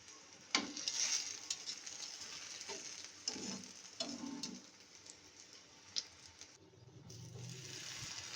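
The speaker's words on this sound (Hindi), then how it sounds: "हमारे जो बैंगन है वो भी फ्राई हो रहे हैं" Brinjal slices frying in hot oil, a soft continuous sizzle with occasional sharp ticks and clinks of stirring, fairly quiet and close with no voices.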